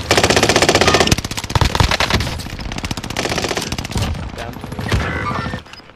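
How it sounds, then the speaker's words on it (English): Sustained machine gun fire in a first-person shooter game, a loud, dense stream of rapid shots near the listener, continuing with brief pauses and little talk. "People from overlook shooting at me still."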